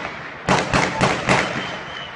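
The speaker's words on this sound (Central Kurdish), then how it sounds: "بە چەکی جۆراوجۆر دەستیان کرد بە تەقەکردن بە ناوی تەقەی خۆشی" Celebratory gunfire from various weapons, a quick series of four sharp bangs about a quarter second apart, loud and somewhat distant-sounding with reverberant tails.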